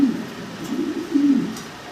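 Fancy pigeons kept by a bird seller coo in low, rolling phrases, three or four throaty calls close by with short pauses between.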